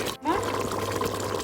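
Water is poured into a cooking pot for prawn biryani rice, a steady close pour whose tone briefly rises near the start, over a low background hum.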